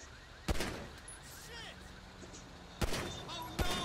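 Gunfire in GTA V, three sharp, loud shots spaced a few seconds apart over quieter game sounds, with a voice talking underneath.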